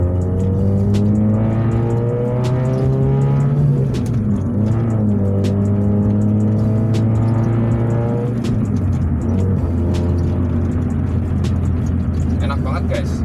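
A 1996 Mitsubishi Lancer Evo 3 CB4 GLXi with a 1600cc injected engine and manual gearbox is revved repeatedly to about 3500 rpm, each rev rising and falling close and loud before settling back to idle.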